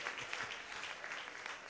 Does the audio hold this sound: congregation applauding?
yes